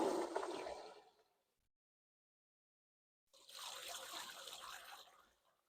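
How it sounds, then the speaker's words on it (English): Water from a garden pond pump splashing down into a freshly filled pond, a steady trickling wash that fades to silence and then returns for a couple of seconds, fairly faint and close. "we're not losing any water as the water splashes down here"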